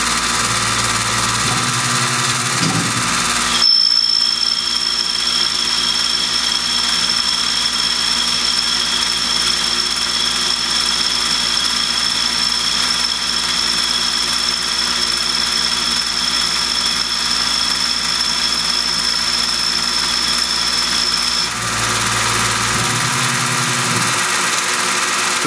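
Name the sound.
Tormach PCNC 1100 lathe cutting an outside pass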